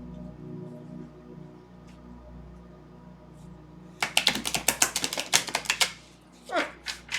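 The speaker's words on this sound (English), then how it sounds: "Sven, don't bite my hands while I'm shuffling cards, please." Playing cards being shuffled during a tarot-style reading, a rapid burst of crisp, riffling clicks and flutters close by, following a quiet stretch, with a brief voice near the end.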